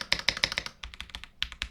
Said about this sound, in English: It's probably one of the best sounding keyboards I ever had